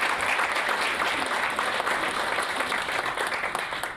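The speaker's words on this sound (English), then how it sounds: "So give yourselves a round of applause, even before we get started." A large indoor audience at a census summit claps steadily throughout, a dense, sustained wash of applause that tapers slightly at the end.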